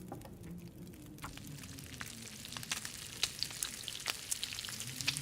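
Meat frying in the survival video game The Long Dark, a steady close sizzle and crackle with scattered sharp pops growing busier over several seconds, alone without talk.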